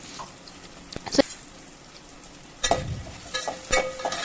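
Chopped onions and green chillies hit a hot pan, giving a low simmering hiss that flares into louder sizzling bursts as they are stirred.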